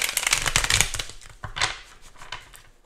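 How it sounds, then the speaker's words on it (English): Tarot cards being shuffled by hand in a few close, crisp riffling bursts. The bursts are loudest at the start and thin out toward the end. "One more shuffle."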